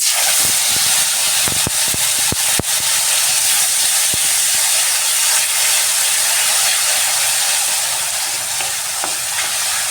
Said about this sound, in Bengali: এবার আমি গ্রেট করে রাখা টমেটো দিয়ে দিচ্ছি